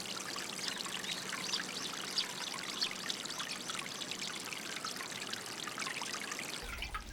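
Water flowing steadily through a channel in a Japanese satoyama village, a continuous close trickling and pouring rush with no voices.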